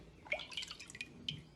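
Water poured from one container into another while comparing capacity, heard as a few faint, close drips and splashes in a quiet room.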